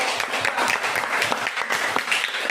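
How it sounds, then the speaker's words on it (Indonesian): A classroom audience claps for a student group after its presentation. The applause is brief, lively and irregular, and it lasts only a couple of seconds. "tepuk tangan untuk kelompok 3"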